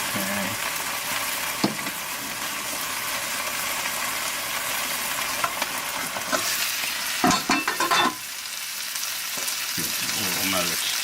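Vegan fried rice stirred and frying in a pan, a steady close sizzle with scraping stirs and a few sharp clinks of the utensil, the hiss briefly dipping before resuming.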